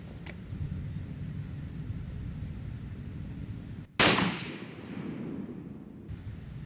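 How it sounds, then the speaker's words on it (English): A single sharp rifle shot fired at a reactive target from a lead sled cracks loudly and close after a quiet outdoor stretch, then rings off in a short decaying tail. "Let me shoot one more."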